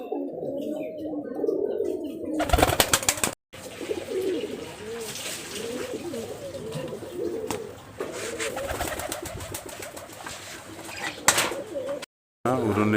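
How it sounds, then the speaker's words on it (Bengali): Rajshahi highflyer pigeons coo in low, repeated throaty rolls close by, with a few brief noisy bursts and short gaps breaking the steady cooing. "এটা একটা মাদি কবুতর"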